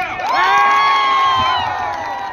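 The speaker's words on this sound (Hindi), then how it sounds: "जोरदार ताली दियो" A festival crowd cheers and shouts with raised, whooping voices, loud and close, swelling quickly and holding for about two seconds before easing slightly, with no clear clapping standing out.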